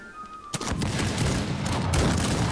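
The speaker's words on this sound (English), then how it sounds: "Yeah, firing blanks." A musket volley of blanks in the Rise of Liberty video game breaks out suddenly as a dense crackle of many overlapping shots, then rolls on as sustained loud rumbling fire.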